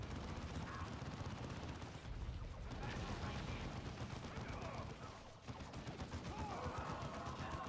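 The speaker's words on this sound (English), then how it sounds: "Just gonna have them shoot there" Dense, continuous gunfire rattles and booms throughout a battle in the strategy game Dawn of War 2 Chaos Rising, loud and unbroken with overlapping bursts and only a brief lull.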